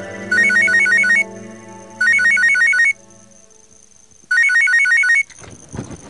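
A telephone rings in a Pakistani drama scene, three bursts of a bright electronic trilling ringtone separated by short pauses, loud and close, with no talking over it.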